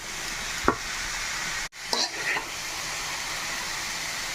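Chopped papaya fries in a pan with a continuous close hiss and sizzle. A sharp clatter of stirring breaks in, followed by a brief hush, and then a few more scrapes before the frying settles back.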